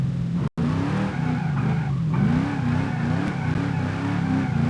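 In BeamNG.drive, a car drifts with a sustained, wavering tire squeal over a steady engine drone, loud and continuous after a brief cut near the start.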